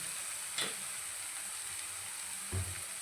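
Skinless boneless chicken frying with softened onions in a pan for Telangana-style chicken fry, a steady close sizzle with two brief stirring scrapes.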